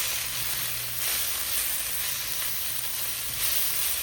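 Pav bhaji masala cooks in a pan, giving a constant close hiss and sizzle with faint scraping as the spices are mixed.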